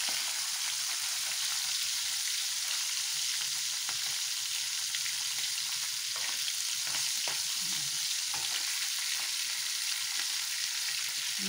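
Fish sizzles and crackles in a frying pan, a steady hiss of hot oil with scattered small pops throughout and no voices.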